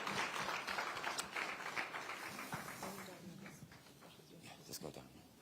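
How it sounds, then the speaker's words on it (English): Audience applause at a climate and economic conference as a speaker comes forward, a loud burst of many hands clapping that gradually thins and fades, with talk beneath it toward the end. "Please put your hands together as she comes forward."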